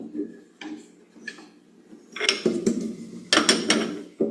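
A metal key turns in a wood lathe chuck, giving a few short clicks and ratcheting scrapes followed by louder clunks, close and brief.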